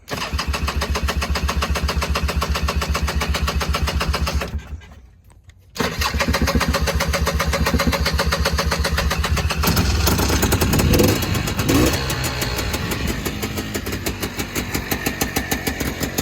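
A Honda FL400 Pilot off-road buggy engine cranks and fires, sputters and dies briefly, then restarts and settles into a loud, steady, throbbing idle on choke, close by.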